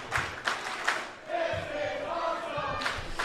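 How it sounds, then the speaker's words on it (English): A crowd at an independent wrestling show roars and chants in rhythmic bursts, rising into a sustained cheer, loud and echoing around the venue. "Listen to the crowd."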